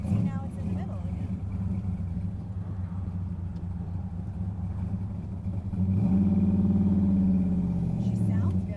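A freshly built car engine idles steadily in a low, continuous rumble with strong harmonic hum, rising to a louder, fuller idle after about six seconds; people talk over it.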